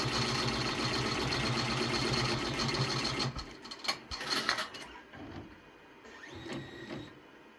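A Redline 1501 embroidery machine stitching an applique placement outline on a child's shirt. It runs as a fast, dense mechanical whirr for about three seconds, then gives way to intermittent clicks and short motor bursts as it slows and stops.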